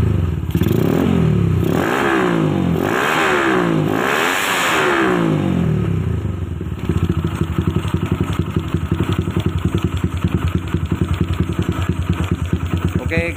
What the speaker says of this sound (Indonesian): Oke, kita tarik gas sedikit.